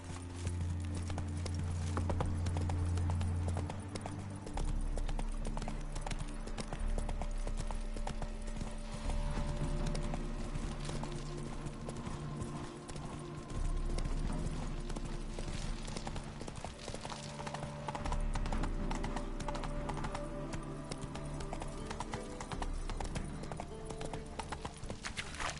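Roach, the horse in The Witcher 3, trots with continuous rhythmic clip-clop hoofbeats up close for the whole stretch, an occasional faint whinny under a steady game ambience.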